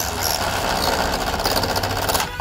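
Steady buzzing, rasping cutting sound like a power saw working through material, continuous and close for the whole stretch, ending abruptly.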